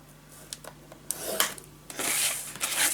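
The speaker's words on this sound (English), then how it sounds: "And then we are going to score the small sides and the large one." A scoring tool scratches crisp lines into paper while pockets are formed for a Halloween-themed pop-up scrapbook album. Several short, close scraping strokes build into a longer rasping pass near the end, with no talking.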